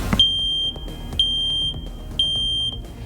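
Shrill smoke alarm at a fire department, three loud, steady high-pitched beeps of about half a second each, sounding close and clear with a faint room background.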